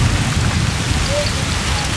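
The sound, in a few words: rain falling in a radio advert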